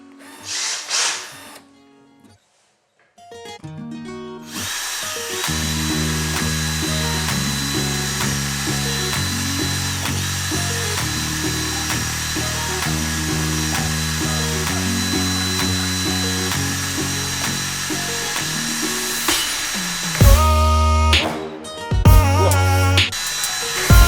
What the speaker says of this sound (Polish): samodzielnie stawiało opór nawet przed wkrętarką z zamontowanym wiertłem